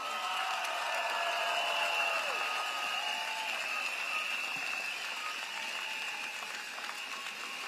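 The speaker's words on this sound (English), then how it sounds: "please give them a big round of applause" An audience at an outdoor political rally applauds in a steady, sustained wash of clapping that stays fairly even and moderately distant throughout, with a faint murmur of voices mixed in.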